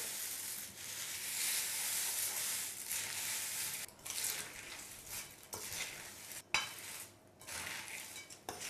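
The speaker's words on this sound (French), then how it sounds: "Vous allez encore une fois mélanger le tout en essayant de ne pas casser les cornflakes." Cornflakes stirred into a melted chocolate mixture with a utensil give soft, continuous scraping and crackling, close and quiet, broken by a few brief gaps.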